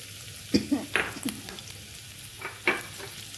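Garlic, ginger and green chili being sautéed in a pan, with a handful of separate sizzling bursts and stirring scrapes, close and moderately loud over a quiet background.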